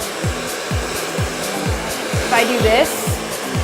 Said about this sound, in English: You want to make sure that your blow dryer nozzle is parallel to your parting.